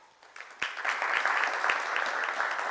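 A luncheon crowd breaks into clapping for a sponsor, starting sparse and quiet, then swelling into a steady, fairly loud wash of many hands that holds to the end.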